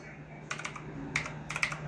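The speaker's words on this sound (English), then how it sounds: "Let me see if I can type something with it." Two or three short bursts of clicky keystrokes on a Redragon Kumara K552 mechanical keyboard, close and fairly quiet, separated by brief pauses.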